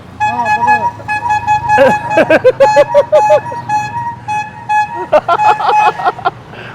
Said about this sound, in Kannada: ಇದರ ಹಾರ್ನ್ ನೋಡಿ, ಬೈ ಹಾರ್ನ್ ಬಜಾವ್.